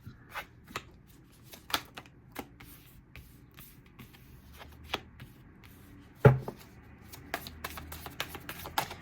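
Tarot cards being shuffled and drawn make soft, intermittent riffles, slaps and flicks, close and quiet, with one sharper knock near the end and scattered card snaps after it.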